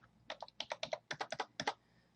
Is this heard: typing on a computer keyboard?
yes